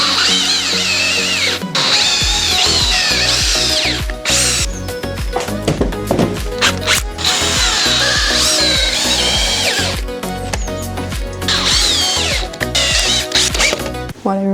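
A power drill drives long screws into wood while a wooden compost bin is being assembled. Close, loud whirring bursts come in repeated runs with short pauses and a few knocks in between.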